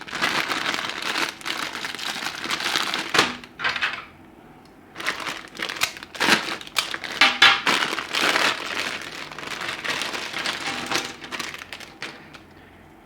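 Thin plastic bags holding flimsy toy race track pieces are crinkled and torn open, producing loud, close bursts of crackling rustle in irregular clusters separated by short pauses.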